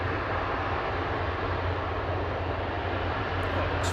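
A Singapore Airlines jet taxiing off the runway at Manchester Airport, heard as a steady, broadband engine roar and rumble at moderate distance, continuous and unchanging with no voices.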